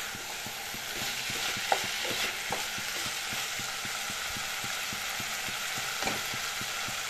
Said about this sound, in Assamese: এইখিনি কেইমিনিট মান সময় এনেদৰে ভাজিলো